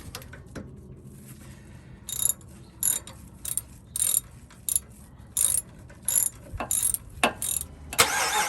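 Allen head bolts being tightened on a Carli high mount stabilizer on a 2019 Power Wagon: a ratchet gives a steady series of about a dozen short, crisp clicking bursts, close and fairly loud, with no talk.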